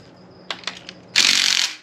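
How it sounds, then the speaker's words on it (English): A hand ratchet turns out a T50 Torx bolt on a Jaguar AJ133 5.0 engine during a teardown. A few sharp clicks come first, then a louder, steady grinding whir for about half a second. The sound is close up, with no talking. "And then now you're gonna remove this bolt right here."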